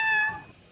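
A single short cat meow, clear and close, with a bright tonal onset that fades quickly.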